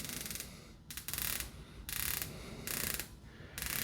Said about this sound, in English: It's 120 clicks unidirectional, so let's listen for the action.